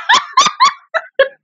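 Animated puppy gives five quick, high yappy barks in a row, loud and close, with short gaps between them.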